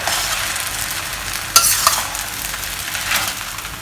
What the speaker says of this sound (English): Stir them well.